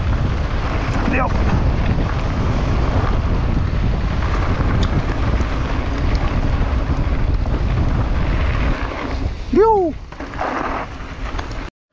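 Strong wind buffets the microphone in a constant low roar at a dry, dusty bike park, with a short exclamation near the end.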